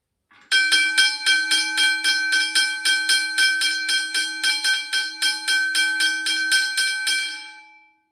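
A first-generation Westinghouse hybrid electric train bell rings in rapid, steady strokes, around twenty clangs in quick succession, loud and close, then stops.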